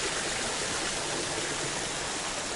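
Running water flows steadily at a hotel park in Alushta, Crimea, on a cool day, giving an even, continuous broadband rush, fairly close and unbroken, with no voices.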